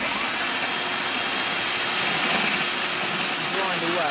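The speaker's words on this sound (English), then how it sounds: "I use this grinding wheel on the end of my drill" A steady, high-pitched whine of a power drill spinning a grinding wheel inside a homemade wheel to fit a bearing, with a constant abrasive hiss running through the whole stretch.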